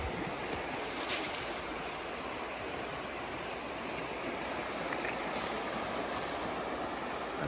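Creek water flowing steadily outdoors, a constant broadband rush and babble close by, even in level throughout, with no talk over it.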